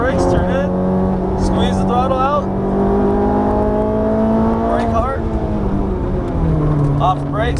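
A Ferrari F430 engine accelerates on a race track, rising and falling revs under almost constant close-up talk from a driving instructor.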